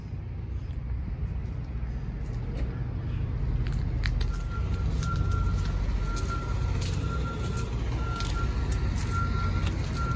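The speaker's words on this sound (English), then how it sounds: "This is Lee's truck." An International semi truck with a 13-speed transmission runs at idle, a steady low diesel rumble throughout, with an intermittent high reversing-style beep joining partway through.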